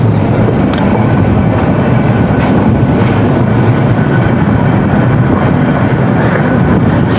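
A loud, steady rumble of a train rolling along the tracks near Hatubhanga station between Bhairab and Kaliganj, Bangladesh, continuous and close, with no voices.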